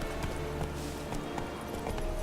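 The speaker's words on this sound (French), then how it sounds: "Voilà, c'est ça pour appeler le cheval." A horse in the video game The Witcher 3 gallops up after being called, rhythmic hoof clip-clops pounding steadily over game background noise.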